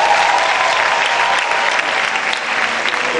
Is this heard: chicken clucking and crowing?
no